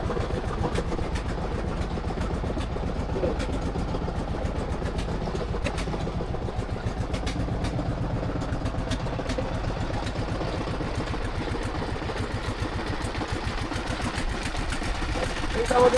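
A small motor boat's engine chugs steadily while cruising on the Bhairab river at Khulna, a continuous low rumble with a fine rapid pulse lasting the whole stretch.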